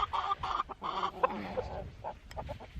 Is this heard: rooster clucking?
yes